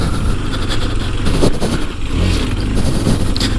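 A KTM 390 Adventure single-cylinder motorcycle engine pulls steadily up a hill, a loud, close, continuous drone with slight rises and dips in pitch, no talk over it.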